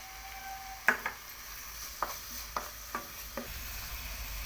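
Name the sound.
baby potatoes frying with ginger garlic paste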